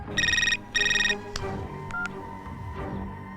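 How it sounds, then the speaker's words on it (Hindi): A telephone rings in two short electronic trills, then a few brief beeps and clicks follow over a low background hum. "चल मणि को फोन लगा।"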